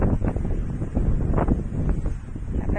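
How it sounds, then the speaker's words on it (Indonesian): Strong wind buffets the microphone at Coney Island, a steady loud roaring rumble with gusty swells and no clear talk. "Masya Allah mbak, anginnya sesutan"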